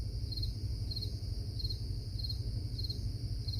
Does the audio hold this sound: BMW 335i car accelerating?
no